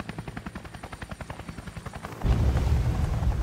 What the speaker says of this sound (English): There's another helicopter here.